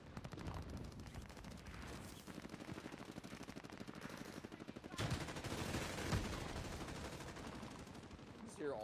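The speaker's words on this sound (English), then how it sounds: "You just hear all the guns just going off." Gunfire in a video game battle: dense bursts of rapid automatic fire rattle almost continuously for the whole stretch, loud and close, with a louder overlapping volley near the end.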